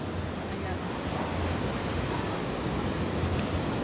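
Strong waves rolling onto the shore at Bucana, a continuous loud roar of surf and water rush mixed with wind buffeting the microphone, no voices heard.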